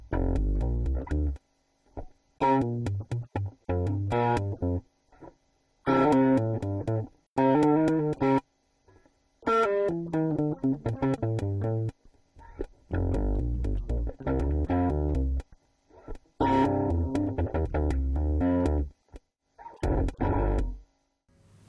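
A TipTop Audio Z DSP shimmer effect, set to 50-50 wet, pitches a synth line down. Low, gritty tones with a warbling, dog-bark-like character come in repeated phrases separated by short gaps.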